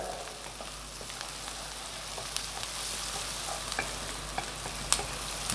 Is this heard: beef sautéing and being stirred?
yes